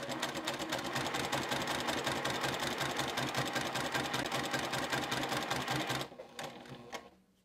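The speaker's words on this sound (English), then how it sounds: "I'm just going to sew along that drawn line." A sewing machine stitches binding fabric along a drawn line at stitch length 2, a fast steady mechanical whir held close for about six seconds before slowing and stopping.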